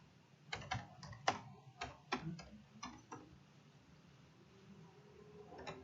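Fingers tap a computer keyboard in short bursts of separate clicks, close and fairly quiet, the keystrokes thinning out toward the end over faint room noise with no talking.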